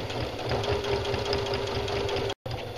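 A sewing machine stitches the casing of pajama pants with a steady, close, continuous mechanical whirr and a fast rhythmic patter. It cuts out briefly near the end, then resumes.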